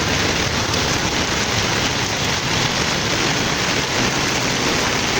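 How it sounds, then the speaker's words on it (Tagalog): Heavy rain pours down on a flooded street in a dense, unbroken hiss, loud and close throughout, with no voices. "Malakas pa rin po ang ulan"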